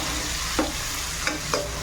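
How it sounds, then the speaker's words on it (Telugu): Tomatoes frying with onions in a pan for a ladyfinger curry give a steady, loud hiss of sizzling with three brief stirring scrapes, and no one speaks. "టమాటో వేసుకొని కలుపుకోవాలి."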